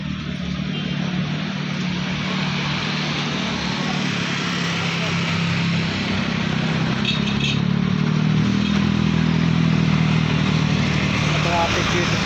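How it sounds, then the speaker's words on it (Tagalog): Motorcycles crowd the town plaza in Biñan, Laguna, their engines droning in a loud continuous wash of traffic noise with revving bikes close by, and a voice speaking over it. "Traffic dito sa loob. Daming mga motor."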